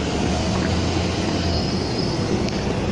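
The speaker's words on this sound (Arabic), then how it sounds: "المترو يمشي على السكة واحدة مش زوز" A metro train running on a single-rail track with side guide wheels, heard as a loud, steady rumble and rush with a faint high squeal near the end, close by and unbroken by talk.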